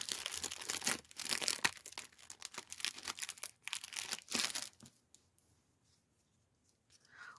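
A Christmas sticker pack is torn and ripped open up close, giving several seconds of busy crinkling and tearing plastic that stops abruptly, followed by near silence and a faint rustle at the end.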